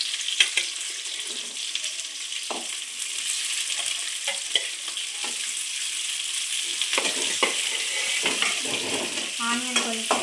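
Onions and chilies fry in a home kitchen pan for chilli paneer, a steady soft sizzle broken by repeated spatula scrapes and stirring knocks, close and fairly quiet.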